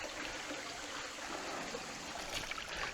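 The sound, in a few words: small stream trickling in forest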